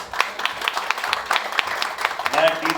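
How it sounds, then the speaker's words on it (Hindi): Applause at a film trailer launch event honouring soldier Naik Deepchand, scattered individual claps ringing out in an uneven rhythm over a loud announcer's voice speaking throughout. "नायक दीपचंद जी साहब के लिए जोरदार तालियां"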